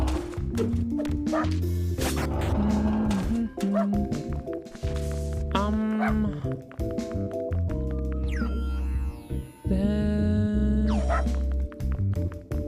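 Dog barking in the video game Unsighted, a series of short yips and barks mixed with game effects, music-like tones and sweeping electronic sounds, busy and layered throughout.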